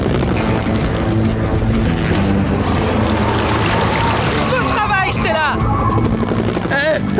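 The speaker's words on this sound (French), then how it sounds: "je vais faire du vent avec les pales de mon hélico!" A cartoon helicopter's spinning blades make a loud, steady chopping whir, with speech and high chirpy voices over it toward the end.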